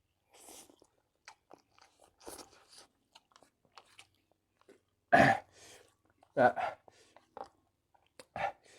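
Crunchy Nissin yakisoba instant noodles with Japanese-sauce flavour being chewed close up in short, sharp bursts with quiet gaps between, alongside occasional mouth noises.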